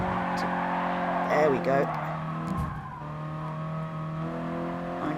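Toyota GR86 engine pulling hard under power in Gran Turismo Sport, a steady mid-pitched drone with a brief tire scrub partway through, under a voice talking.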